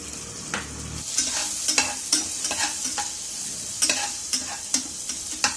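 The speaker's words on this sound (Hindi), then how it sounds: "एबे मु पियाज पकेबी।" Chopped onions fry and sizzle in a pan for an Odia egg ghotala curry, with repeated stirring scrapes and clicks of a spoon at a steady, uneven rhythm, close and fairly loud, with no talking.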